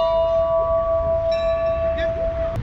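A temple bell in India rings with a long, sustained metallic tone that hangs steadily and slowly fades, over low background murmur and crowd noise.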